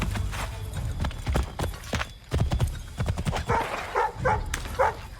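Horse hooves clip-clop on the ground in the remastered Assassin's Creed III, set in the American Revolutionary War, with irregular close hoofbeats and a brief whinny mixed in.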